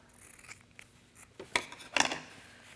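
A few quiet snips and rubbing sounds from scissors trimming thread off a garment waistband after machine stitching near a hidden zipper, short and close, with small handling noises between cuts.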